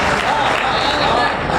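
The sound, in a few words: audience applause at poetry recital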